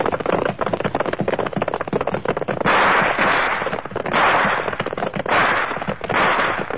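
Gunfire effect in the Gunsmoke western radio drama: a dense, loud barrage of rapid shots and cracks, broken by a few bursts of sustained rushing noise, with no talking.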